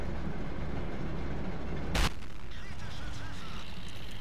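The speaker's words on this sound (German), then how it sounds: "obwohl er voll eingezielt war, trifft der Schuss nicht" A single sharp cannon shot from a Sturer Emil tank destroyer in World of Tanks cracks out midway, loud and abrupt over a steady engine rumble.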